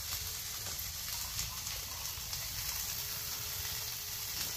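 Bread frying in a pan with a soft, steady sizzle and faint crackle, quiet and continuous without speech.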